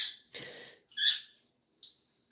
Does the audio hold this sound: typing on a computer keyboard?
no